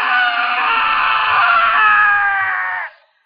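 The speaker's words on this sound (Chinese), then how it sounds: "二楼又传来男人的惨叫声" A man on the second floor of an apartment building lets out a single sustained, loud scream of pain lasting nearly three seconds, then stops abruptly into silence.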